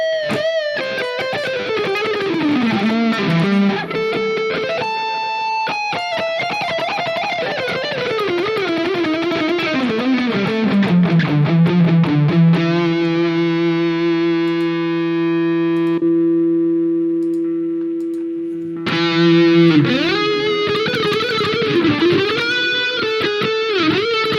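Electric guitar run through a delay effect on a Hotone Ampero 2 Stage multi-effects unit: loud phrases and held notes with repeating echoes that trail off, then a long sustained chord ringing alone before playing resumes.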